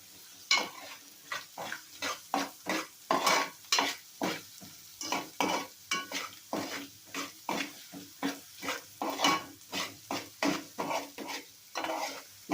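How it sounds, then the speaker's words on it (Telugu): Ginger paste frying for egg curry, stirred steadily in a pan: a rhythmic run of scraping, sizzling strokes about once a second, close and moderately loud, with no voices. "నెక్స్ట్ మళ్ళీ కొంచెం పచ్చివాసన పోయే వరకు దాన్ని కూడా ఫ్రై చేయాలండి."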